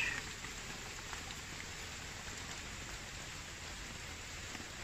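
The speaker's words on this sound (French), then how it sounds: "voilà la pluie plus ou moins." Rain falling on a makeshift survival shelter during a night storm, a dense, even hiss of drops that stays steady throughout, fairly faint and unbroken by talk.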